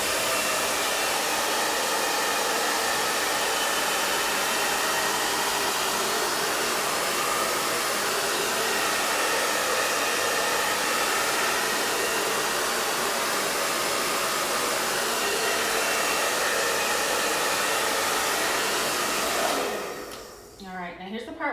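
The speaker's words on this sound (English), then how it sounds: "here we go, hot dryer" A hot air dryer runs steadily for about nineteen seconds, heating a WoodUBend moulding on a dresser, a loud continuous blowing roar that cuts off abruptly near the end.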